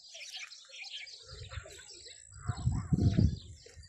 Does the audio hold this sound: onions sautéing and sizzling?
no